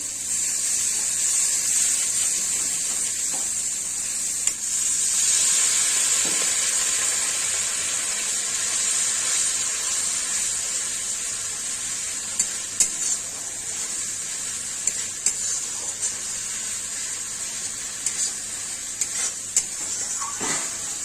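Steady, close sizzling of spices frying in hot oil, a continuous hiss with occasional small clicks from stirring; no one speaks.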